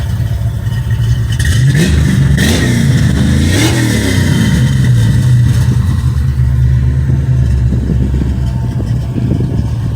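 A car fitted with two brand-new Flowmaster mufflers and an X-pipe revs loudly and close by, its engine note swelling and dropping in continuous throaty pulls for the whole stretch, with no voices.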